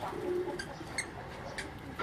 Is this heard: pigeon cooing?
yes